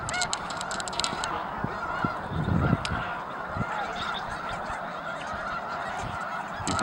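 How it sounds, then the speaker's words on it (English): Snow geese at Bosque honking in a dense, continuous chorus at dawn, a large flock calling over one another with a brief louder swell in the middle. "See all the geese limbering up their wings, getting ready for the morning blast off"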